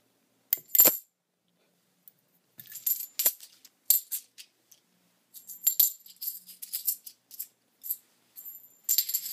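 Coins dropped one after another during a coin magic routine, producing sharp metallic clinks and jingles in scattered bursts, some single and some clustered, fairly close with quiet gaps between.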